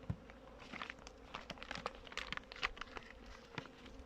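Honey bees buzz softly while feeding on sugar feed given for winter, with scattered faint wing hums and small crackling patter, quiet and close.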